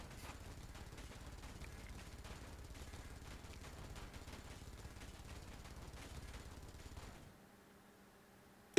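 Turret guns in the Space Engineers game fire in a rapid, continuous mechanical stream of shots for about seven seconds, then cut off abruptly, leaving near silence and a sharp click at the very end.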